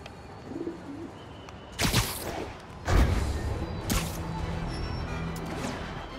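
Pigeon cooing in the Marvel's Spider-Man Remastered video game, soft low coos under a steady ambient bed, interrupted by a few sharp bursts of louder game noise.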